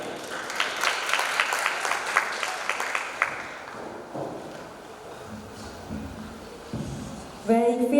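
An audience at a language ambassador pageant final breaks into lively applause, dense clapping that fades over several seconds, followed by a brief burst of sound near the end.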